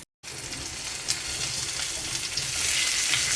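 Steady, loud sizzling of sous-vide Black Angus striploin steak frying in butter in a pan, a continuous hiss that grows slightly stronger toward the end, with no voices.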